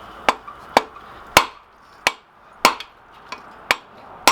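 A hammer strikes hot steel on an anvil while drawing a short taper for a millpick, about eight sharp ringing blows at an uneven, unhurried pace, close and loud.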